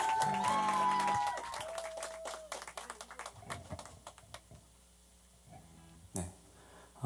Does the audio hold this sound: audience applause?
yes